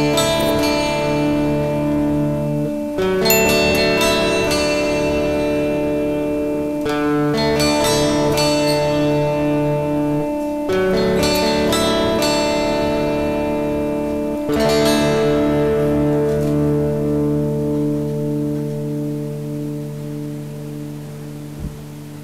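Electric guitar driven through a Boss DS-1 distortion pedal, tone knob at nine o'clock, playing sustained distorted chords with fresh attacks every few seconds, loud and close, ringing out at the end with no talking.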